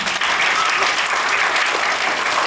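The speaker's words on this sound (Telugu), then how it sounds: "let them clap" An audience claps steadily at a Mother's Day celebration in an arts academy, producing dense, even applause that fills the whole stretch without pause.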